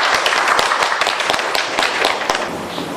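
An audience applauds at a hospital group's New Year event, a steady wash of many hands clapping with sharper individual claps rising from the crowd.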